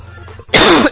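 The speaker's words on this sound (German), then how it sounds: "Entschuldigung für den Huster gerade." A single loud, close cough bursts out after a brief quiet moment, sharp and harsh with a short rasping tail.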